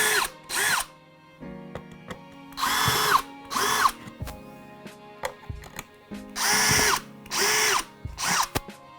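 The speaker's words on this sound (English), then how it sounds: "Keeping a firm hold, we'll now drill the rest of our holes." Power drill making a series of holes in a miniature carry case, several loud whirring bursts in steady succession separated by brief pauses with quiet clicks and handling sounds between them.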